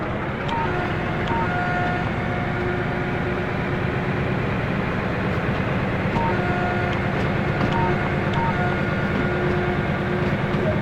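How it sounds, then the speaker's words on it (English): Diesel locomotive DB BR 204 in Train Sim World 2 pulling away, a steady loud low engine drone with rumbling wheels and faint sustained tonal whines throughout. "To get the train moving, we will set the throttle wheel."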